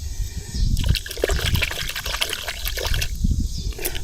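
Water sloshing and trickling in a lagoon: a loud, continuous, rushing and gurgling flow close by, with no talk.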